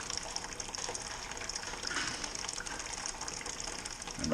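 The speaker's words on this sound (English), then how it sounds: "we're filling the mash tun with the strike water now" A mash tun steadily filling with strike water for home brewing a raspberry pale ale, a continuous close gushing and splashing of liquid that holds at a steady level throughout with no talking.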